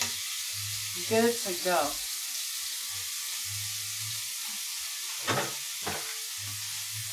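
Onions frying in a pan at home give off a steady, close sizzling hiss throughout, with a few brief spoken words rising over it.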